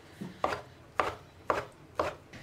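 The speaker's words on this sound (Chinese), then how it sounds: "把洗干净的豆腐皮卷起来，全部切成丝" Knife chopping rolled-up tofu skin into shreds on a board: crisp, evenly spaced chops, about five in a steady rhythm, close and alone.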